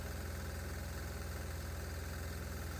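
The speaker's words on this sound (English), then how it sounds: "we're not seeing any difference in the way this engine runs with or without the HHO fuel" A diesel engine fuelled with added HHO hydrogen gas idles steadily close by, a low, even rumble with a faint rhythmic knock and no voices.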